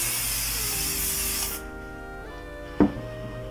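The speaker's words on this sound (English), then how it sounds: "So now I'm going to spray this with hairspray." Hairspray hisses in one steady, close burst onto pinned victory rolls for a pin-up hairstyle, then cuts off, leaving a quiet room and a single brief knock.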